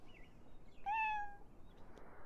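A cat meows once in the video game Banquet for Fools, a short rising-and-falling cry heard alone over quiet background ambience.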